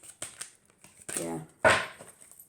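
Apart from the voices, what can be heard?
shuffling large oracle cards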